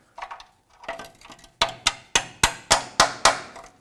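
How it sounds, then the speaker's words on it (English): Metal hammer blows driving a 13 mm socket onto a seized exhaust mounting nut on a 2008-2010 Ford F-450 Super Duty, a few lighter taps then a steady run of eight sharp, loud ringing strikes close by. "I'm going to take a 13 millimeter socket and hammer it on there."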